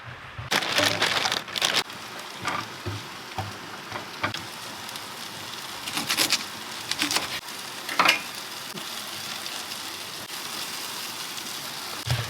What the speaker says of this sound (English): So it is a propane stove, and bam, we hit that button,